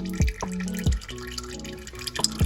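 Old engine oil draining from a 1968 Porsche 912, a dripping, splashing flow of liquid with a few distinct plopping drops over a steady trickle, close by.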